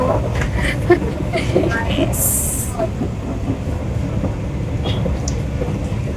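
A passenger train moves along on a journey, giving a steady dense rumble with faint rattles and a short high squeal partway through. Muffled talk sits under the noise.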